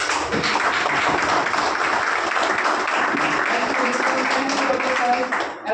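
Loud, dense audience clapping fills a hall at an anchored event, a continuous wash of applause sustained at an even level from start to finish, ending abruptly.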